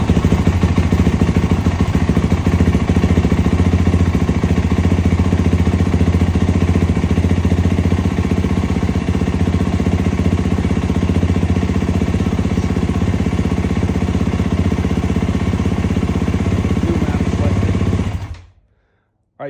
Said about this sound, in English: So we'll start the bike.